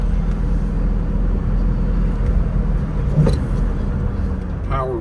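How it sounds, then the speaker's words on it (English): A 1965 Chevrolet Corvette accelerating up through third gear on a road, a loud steady engine roar heard from inside the car, with a brief knock near the end and a voice speaking over it. "Up into third gear, a little too fast for traffic."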